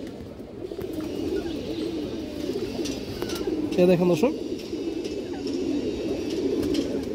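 Pigeons bred as high flyers coo softly in their loft, one throaty burst standing out midway, while someone talks steadily over them.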